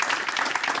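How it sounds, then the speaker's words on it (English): An awards-night audience applauds in a steady, dense wash of clapping, loud and continuous throughout the short stretch, with no voice on top. "A round of applause, please,"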